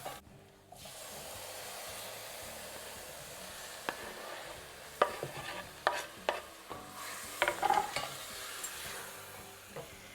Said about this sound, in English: I have just chopped up 4 medium-sized tomatoes, and then I'm going to just add it to the onions now.